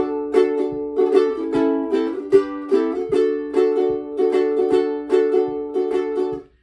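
Bright ukulele strumming plays the short, steady chord progression of the intro to a song, with a clear rhythmic strum pattern carrying through to a final stop.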